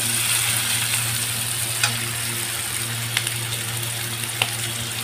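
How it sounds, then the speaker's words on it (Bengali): Capsicum and chopped green chilli sizzle steadily in a hot pan, with a few faint clinks of stirring over the continuous frying hiss. "ক্যাপসিকামের যে কাঁচা গন্ধটা আছে ওটা শুধু একটুখানি যাতে চলে যায় সেইভাবে নেড়ে নেব"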